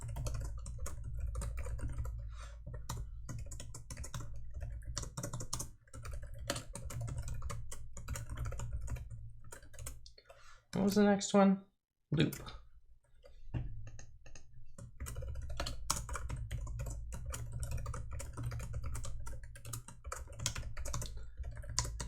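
Steady typing on a computer keyboard, close and moderately loud, with brief pauses and a short spoken interjection partway through.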